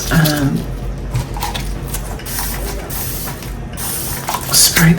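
Short spray bursts of cleaner onto resin mixing paddles, interspersed with clicking and handling noises at close range.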